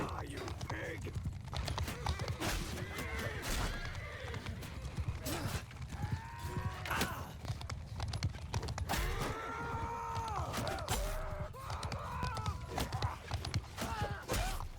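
Mounted cavalry charge in Mount & Blade II: Bannerlord, with continuous galloping hooves and scattered neighs thick with battle din and shouting voices throughout.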